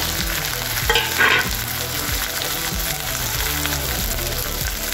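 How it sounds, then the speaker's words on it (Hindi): Paneer chilli with carrot and capsicum stir-fried over a high flame, a steady loud sizzle with rhythmic scraping strokes of the spatula against the pan. "हमने हाई फ्लेम पे इसको जल्दी से फ्राई कर दिया।"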